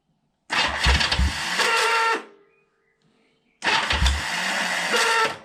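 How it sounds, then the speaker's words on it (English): Honda CL 350 Scrambler motorcycle engine cranking on the electric starter in two loud bursts of about one and a half seconds each, separated by a quiet pause, with a worn starter clutch and no voices. "In fact, let's hit the starter button."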